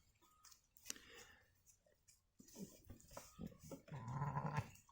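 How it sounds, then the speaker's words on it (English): A ewe calls out on a farm with bleats reaching a young lamb named Pearl, who is outside chewing on an old salt block nearby. Calls come in several irregular bursts, moderately loud, the last one longer and steadier. "You can hear the ewe calling to them."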